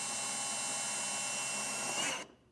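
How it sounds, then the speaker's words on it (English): A power drill with a 3/8 drill bit bores steadily through rubber while fitting a hidden trailer hitch, giving a loud, sustained high whine that winds down and stops near the end. "I'm going to use a 3/8 drill bit, and I'm going to just very slowly keep chunking away this rubber until we pass through"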